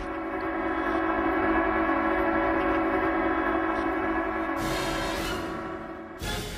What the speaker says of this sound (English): The train of leader Kim Jong-il did not stop.